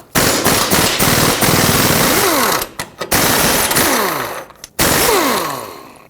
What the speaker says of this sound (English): Take a 17mm socket and remove all 3 2 nuts and 1 bolt.